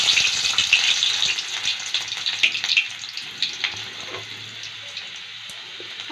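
Chopped garlic hits hot oil for tadka dal and fries with a loud, bright, steady sizzle close up that gradually calms into softer crackling pops.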